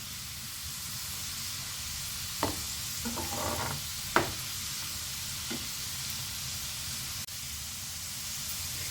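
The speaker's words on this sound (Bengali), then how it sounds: "এটা কিন্তু বেশ বেশি তেলে ডিপ ফ্রাই করতে হবে" Sweet corn kernels deep frying in plenty of oil, a steady close sizzle and hiss throughout with a few brief stirring scrapes and clinks in the middle.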